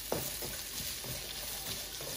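Topside beef stir-frying with vegetables and onion, with a soft, steady sizzle and rhythmic stirring scrapes about every half second, fairly quiet.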